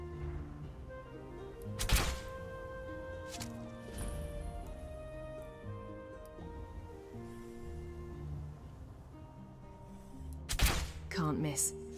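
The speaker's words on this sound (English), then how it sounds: "somebody else firing at him though" Game gunfire in a fantasy role-playing game, with two sharp, loud shots about eight seconds apart over steady background music and ambience, and speech present.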